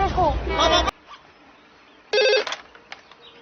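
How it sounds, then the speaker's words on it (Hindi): An old-style telephone bell rings loudly in two bursts indoors, a long ring at the start and a shorter one after a quiet gap. "आदि फोन नहीं उठा रहा तू?"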